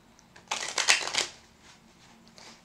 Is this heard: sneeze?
no